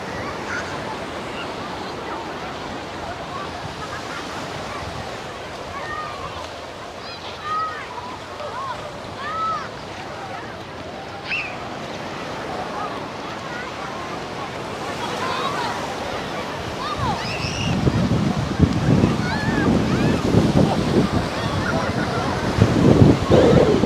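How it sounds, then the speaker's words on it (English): Ocean surf rolling in and breaking on the beach at Waikiki, Hawaii, with steady wash and wind buffeting the microphone, swelling louder as a bigger wave arrives near the end; voices talk faintly in the background. "look at this wave coming in"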